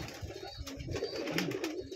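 Pigeons coo softly in a loft, with a low, quiet murmur running through the short stretch.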